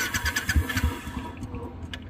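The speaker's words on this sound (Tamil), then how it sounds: "நெக்ஸ்ட் கியர் போட்டு வண்டி மூவ் பண்ணுங்க." A car engine running at low revs as the vehicle is put into gear and pulls away, with a chugging, uneven rumble that settles into a steadier hum, fairly close and with no talking.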